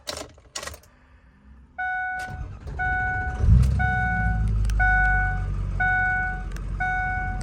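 A 2005 Ford Excursion Eddie Bauer 4WD with a 6.0L Powerstroke diesel cranks briefly and fires, then settles into a steady, close rumbling idle. A repeating electronic warning chime sounds over the engine throughout.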